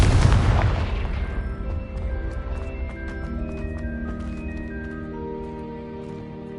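The Confringo fire spell explodes in Hogwarts Legacy with a loud, deep boom at the start that decays into a long rumbling tail, while game tones ring on over it.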